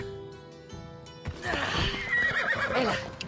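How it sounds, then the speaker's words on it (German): A horse neighs loudly in a long, wavering whinny, rising and falling, preceded by a low background hum, in the video game Assassin's Creed Odyssey. "Ey, Pferdchen, hast du ein Glück,"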